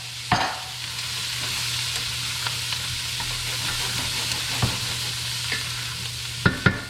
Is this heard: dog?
no